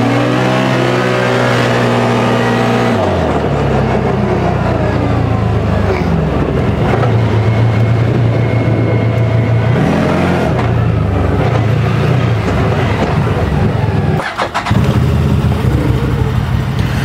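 A CFMOTO UForce 1000 UTV running a swapped Z950 ECU revs loudly close by, its engine note rising and falling through several throttle blips before settling into a steady, throbbing drone.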